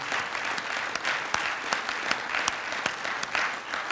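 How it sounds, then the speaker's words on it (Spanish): A church congregation applauds in praise at the close of a Spanish-language service, a steady, dense wash of many hands clapping throughout with sharper individual claps standing out. "Dale un aplauso de alabanza a Jesús."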